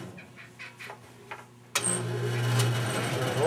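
An Innovative bowling ball spinner switches on abruptly after a quiet moment and runs with a loud, steady whirring drone while a plugged bowling ball is polished with a gritty liquid compound.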